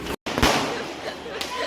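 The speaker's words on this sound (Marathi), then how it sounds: "फटाके कुठे वाजतायत तुम्हाला दाखवते मी" Diwali firecrackers bursting outdoors, with a sharp bang near the start and another crack later, heard under a voice talking.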